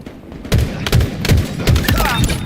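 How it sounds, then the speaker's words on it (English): Rapid bursts of gunfire ring out in the multiplayer shooter Halo Infinite, with several loud, punchy shots in a rhythmic volley and voices talking underneath. "In a hail of gunfire."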